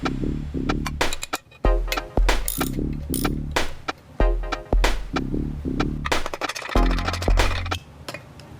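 An air compressor being taken apart with hand tools, giving repeated close ratcheting clicks and metallic clinks in quick rhythmic bursts, with brief pauses between runs.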